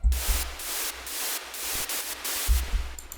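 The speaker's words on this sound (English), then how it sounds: "Then we have a white noise." A white noise synth layer in an FL Studio remake of an electronic dance track hisses in rhythmic bursts that swell and cut off, over a pulsing low thump.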